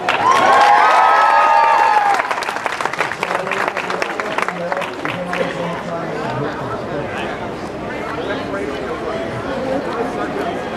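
A crowd claps and cheers at an outdoor Renaissance festival juggling and tightrope show, with a loud whoop early on, then sustained applause mixed with shouting, chatter and voices talking over it.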